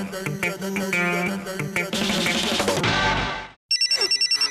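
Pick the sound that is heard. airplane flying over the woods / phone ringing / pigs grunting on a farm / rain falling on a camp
phone ringing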